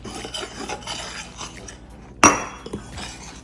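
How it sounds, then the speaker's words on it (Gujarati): Gram flour batter being stirred with water in a bowl, a steady scraping rasp with light clinks, then one sharper knock against the bowl's side. "ધીરે ધીરે પાણી ઉમેરીને આપણે એને મિક્સ કરવાનું છે"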